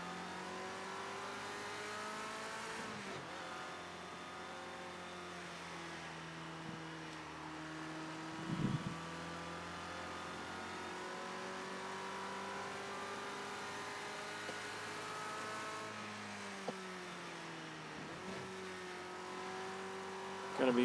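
A Ford Escort RS1600 engine in the racing game Project CARS 2 drones and revs through gear changes, with rising and falling pitch sweeps and a brief tire squeal, while someone talks over it.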